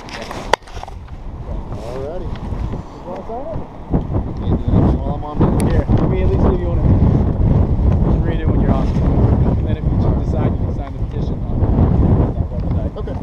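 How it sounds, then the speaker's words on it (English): Strong wind buffets the microphone in continuous gusty rushes at an outdoor polling place, with people talking under the roar. "It's windy."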